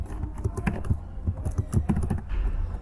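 Fingers tap quickly on a computer keyboard while someone codes a React weather app, giving close, irregular bursts of clicky keystrokes with no voice over them.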